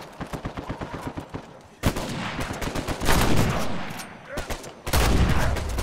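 Pistol and other gunfire in an Uncharted 4 multiplayer match, a rapid run of sharp cracks followed by louder, denser bursts and booming blasts, close and heavy, with no voices over them.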